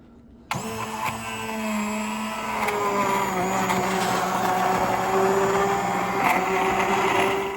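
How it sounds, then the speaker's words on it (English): An immersion blender whirs in a pot of soup, kicking on suddenly and then running as a steady, close motor hum whose pitch shifts slightly as it works through the mixture. "we are gonna hit this baby with an immersion blender, slowly and gently"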